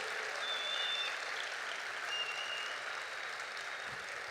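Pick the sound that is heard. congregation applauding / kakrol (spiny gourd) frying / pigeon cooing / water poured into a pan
congregation applauding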